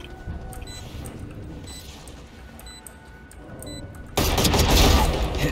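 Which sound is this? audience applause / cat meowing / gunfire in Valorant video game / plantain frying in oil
gunfire in Valorant video game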